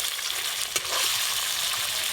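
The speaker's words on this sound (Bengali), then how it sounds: "সর্ষের তেল, সব মুড়োগুলো একসাথে ভেজে নেবো।" Hilsa fish heads fry in mustard oil with a dense, steady crackling sizzle from start to end. A single soft knock sounds near the start.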